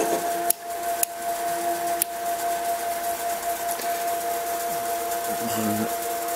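A Hobbymat 65 metal lathe turning under electric power at 460 RPM gives a steady, close motor whine and hum with a faint tonal drone, unbroken apart from a few brief clicks.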